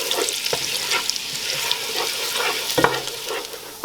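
Garlic cloves frying over medium heat in a pan, stirred around with a spoon, a continuous close sizzle broken by scraping strokes and a few knocks against the pan.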